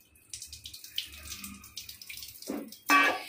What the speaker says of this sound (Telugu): మంచిళ్ళు పోస్తున్నాను,